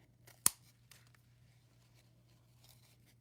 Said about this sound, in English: scissors are a little sticky